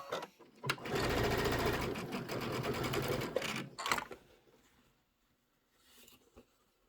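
A sewing machine stitches near the edge of a piece of fabric in a fast, steady run of about three seconds, followed by a short whir, then quiet with a brief final burst of stitching.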